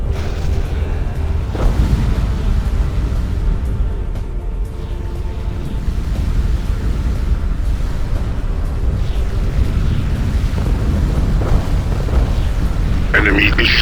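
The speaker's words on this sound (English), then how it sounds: "Enemy is shooting at us." Enemy gunfire and explosions from the video game Ground Control 2 form a continuous, loud, dense wash of rumbling booms and artillery-like blasts, with a brief radio-style voice near the end.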